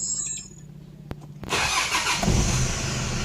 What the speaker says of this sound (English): So I'll start this engine now